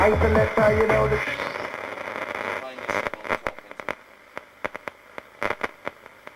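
An old valve radio is tuned across the band, giving warbling tones and hiss that drop into sparse, sharp crackles and pops of static, loud and close.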